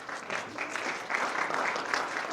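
An audience at a community luncheon applauds with continuous, moderately loud clapping from a room full of people, holding steady across the whole moment.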